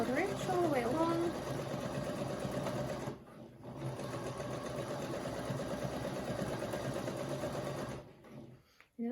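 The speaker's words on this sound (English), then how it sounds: "I'm just going to sew again with a 1/4 inch all the way along" A sewing machine runs a steady quarter-inch seam across scrappy granny-square quilt blocks, whirring continuously and close with brief pauses, while a person talks over the start.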